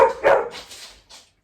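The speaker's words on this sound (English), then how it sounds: "it's the dogs in the background deciding they want to have their funny half hour together." Several dogs, Labradors, bark in short yapping bursts, fairly close and loud at first, then trailing off with a final brief yip in a room.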